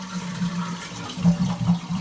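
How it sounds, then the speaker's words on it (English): A toilet is flushed while its fill valve is being replaced, producing a faint, close gurgle of draining water with a low hum and small bubbling surges. "the first thing you do is you flush the toilet, try and get out as much water as you can"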